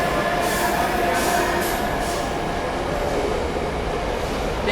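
An Amrit Bharat train pulls out of Nashik Road station, giving a steady, loud rumble of rolling coaches with faint high wheel hiss and a few brief whistling tones over it, continuous throughout.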